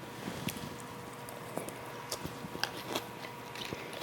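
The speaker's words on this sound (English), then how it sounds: "you can hear the croutons crunching" Sourdough croutons in a Caesar salad crunch under someone's bite, a string of faint, close, irregular crisp cracks and clicks over quiet room tone.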